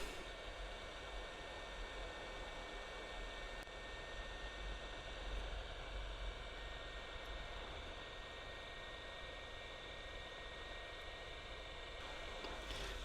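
The fan of a hot air rework station blows steadily while a chip is removed, giving a faint, even whoosh with no change in level and no speech.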